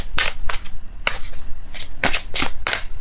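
Tarot cards shuffled by hand in a series of quick crisp riffling bursts, about seven close, distinct swishes in a few seconds with no talking.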